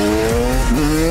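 A motocross bike revs hard, accelerating into a wheelie. The engine whine is loud and close and holds steady through the whole short burst, with no talk.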